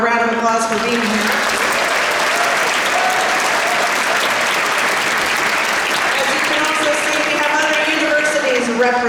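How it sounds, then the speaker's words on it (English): Audience applause at a TubaChristmas concert, a broad sustained wash of clapping from a large crowd lasting the whole stretch, with voices and brass tones audible underneath. "So let's give them a round of applause for being here."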